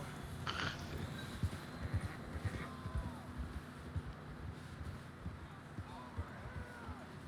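Horses ridden in the video game Red Dead Redemption 2 give faint, irregular clip-clop hoofbeats throughout, beneath occasional talking.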